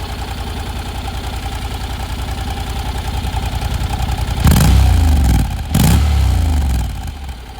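A Honda NC750X motorcycle idles with a close, throbbing putter, then gets two sharp revs that swell loudly and drop back, the second following shortly after the first.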